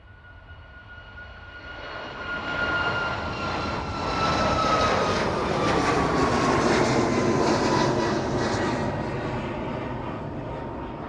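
An airliner takes off from East Midlands Airport and climbs away, its jet roar swelling to a loud broad rumble with a falling whine, then easing slightly as it departs.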